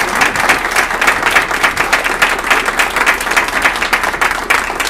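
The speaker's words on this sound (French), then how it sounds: "Vous pouvez l'applaudir." Audience applause after a French-language Lenten conference talk on coaching, dense steady clapping from a hall crowd that runs unbroken and fairly loud for the whole stretch.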